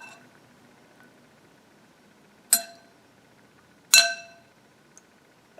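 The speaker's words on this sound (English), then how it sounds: "I'm going to give it just a little stir to get the capsule started." A spoon stirs grow capsules in a cup of water, producing two bright clinks against the cup and a tiny faint tick, with near silence in between.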